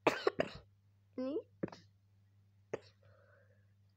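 A few sharp coughs from a person, short separated bursts at the start and again later, close to the microphone, with quiet speech and a low steady hum between them.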